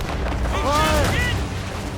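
Ship cannons boom in a naval battle in Assassin's Creed Rogue, a heavy, rumbling barrage filling the whole moment while someone shouts an order over the gunfire.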